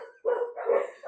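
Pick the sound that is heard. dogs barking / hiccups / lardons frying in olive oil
dogs barking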